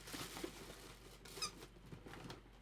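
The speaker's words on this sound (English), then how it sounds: "Do you like the squeaky? It's so loud, it's peaking the microphone." A squeaky toy squeaker being squeezed, giving faint high squeaks amid quiet rustling and handling noise, with no speech.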